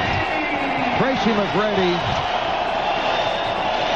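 Arena crowd in Orlando applauding during a 2001 NBA playoff game against the Bucks as Tracy McGrady heads to the bench; a steady wash of clapping and cheering sits under a commentator's voice.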